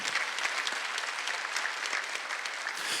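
A church congregation claps during a Sunday worship service, a continuous crackle of many hands at moderate loudness that holds steady throughout with no speech over it.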